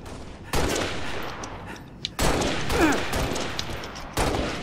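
Bursts of automatic gunfire in Halo Reach come in three separate loud volleys, each a sustained rattling blast, with a brief streaking whoosh between them and no talk.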